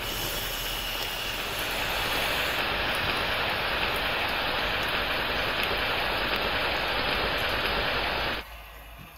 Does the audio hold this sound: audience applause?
no